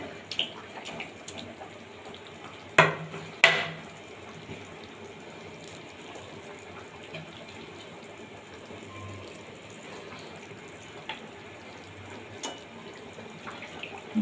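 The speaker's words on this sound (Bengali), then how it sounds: "দেখুন ঝোলটা খুব সুন্দরভাবে ফুটছে টকবক করে" A homestyle tilapia fish curry broth with potatoes and cauliflower simmers in a pot, giving a quiet, steady bubbling hiss with a few sharper knocks near the start and no talking.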